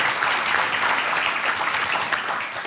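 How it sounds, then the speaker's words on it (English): Applause from an audience at a talk with the U.S. Assistant Secretary for Indian Affairs, a dense continuous wash of clapping, loud and steady with no talking. "let's give all of those folks a huge round of applause."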